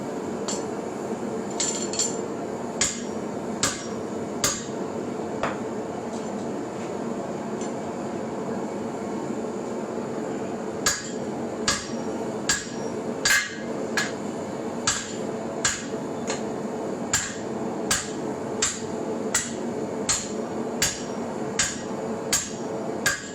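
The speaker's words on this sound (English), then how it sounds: "And in true blacksmith fashion, I send a drift through it." A blacksmith hammers a drift through hot steel at the forge, with sharp ringing metallic strikes repeating in uneven bursts and steady rhythmic runs, loud and close over a low forge hum.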